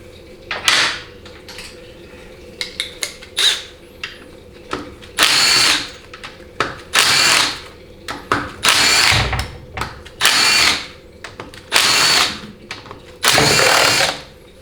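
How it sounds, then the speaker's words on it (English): A power tool with an 8 mm socket spinning out valve body and accumulator housing bolts on a 4L80E transmission, loud close whirring bursts repeated about a dozen times with short pauses and small clicks between. "you're going to need your 8 millimeter socket again so that you can take off the 3rd and 4th accumulator housing assembly"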